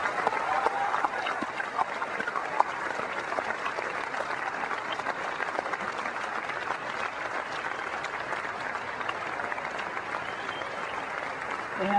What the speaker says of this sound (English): giving them a round of applause for bringing us these